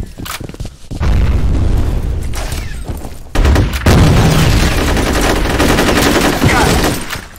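Grenade explosion and gunfire in the shooter game F.E.A.R. Combat: a loud broadband blast about a second in, then a second heavy burst with sustained rattling fire that fills the rest of the stretch, close and dense.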